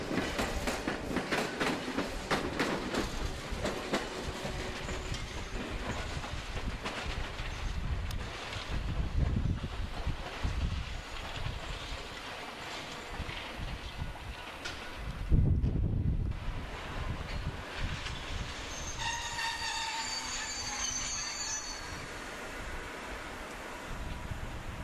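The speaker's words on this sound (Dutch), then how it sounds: "En het Belgisch materieel is bezig met omrangeren." Belgian railway rolling stock shunting at an open day in Heerlen and Maastricht: a steady rumble of moving railcars with wind buffeting, a heavier clunk midway, and faint high squeals near the end, no speech.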